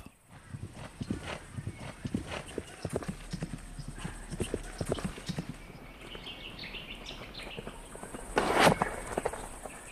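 Horse hooves clip-clopping in a steady rhythm over a continuous bed of noise, with a brief louder burst near the end; the horse is tied to a 1529 Turkish cavalry setting at the Siege of Vienna.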